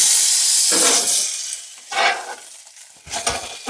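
Cheeseburger patties sizzling in a hot pan, a loud hissing fry that swells and fades in a few bursts as the meat is moved and stirred.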